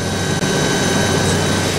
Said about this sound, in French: aux commandes de l'hélico